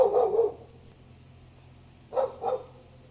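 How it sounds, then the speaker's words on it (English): A dog barks outdoors, one short burst at the start and then two quick barks after a pause, fairly close and clear against a quiet background. "She's somewhere between a great guard dog and just barks at everything."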